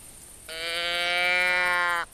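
Deer call lure blown by a hunter in The Hunter video game, a single loud nasal bleating note held for about a second and a half, heard alone with no talk over it.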